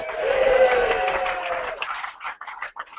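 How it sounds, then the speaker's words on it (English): An audience at a Featherstone Rovers rugby league squad number announcement evening cheering and applauding, a loud crowd roar with clapping that fades into scattered claps. "As you can tell from the audience this evening, you got a nice big cheer"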